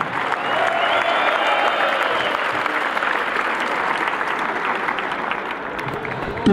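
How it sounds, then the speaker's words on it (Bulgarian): A stadium crowd applauds at the Botev Plovdiv football team presentation, a loud sustained wash of clapping and cheers with a whistle-like tone early on, steady for the whole stretch and swelling again right at the end. "Аплодисменти, не ви чувам."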